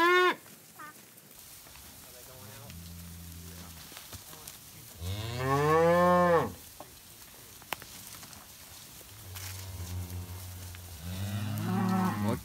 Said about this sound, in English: Yep, that's my cow.